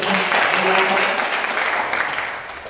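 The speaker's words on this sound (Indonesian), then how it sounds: "Tepuk tangan dulu Mbak Sylvie" An audience applauds a guest at a talk session on voice acting, a steady wash of clapping that thins slightly toward the end, with a voice speaking faintly underneath.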